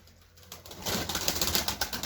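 Domestic pigeons burst into a flurry of flapping wings as they are let outside, with soft cooing mixed in, close and fairly loud after a quiet start.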